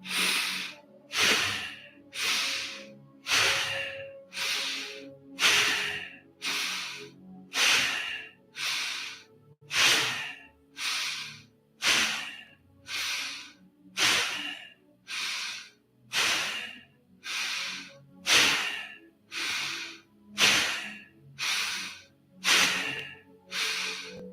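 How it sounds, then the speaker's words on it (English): Bow breathing in a pranayama practice, a steady run of about twenty forceful, rhythmic nasal breaths in quick succession, each a sharp hissing puff close to the microphone, with no talking. "let's begin with 30 rounds of bow breathing together"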